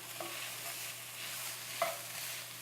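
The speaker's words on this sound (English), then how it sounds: "we're just going to give that a stir and get those spices cooking" Spices are stirred in a pan while they fry for a Minnesota hotdish. A soft continuous sizzle carries a couple of light utensil scrapes, quiet and close, with no speech.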